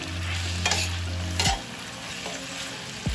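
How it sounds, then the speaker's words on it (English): A spoon stirs a Caribbean ackee and saltfish mixture in a frying pan, with a low sizzle and a hum that cuts out around mid-clip, and a few sharp scrapes against the pan, close and clear, with no voices. "Go ahead, stir it around."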